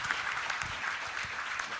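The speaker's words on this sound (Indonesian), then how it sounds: "Tepuk tangan untuk Cak Taufik." Audience applause at a Golkar party dialogue on money politics, a short dense burst of many hands clapping, steady and fairly loud throughout.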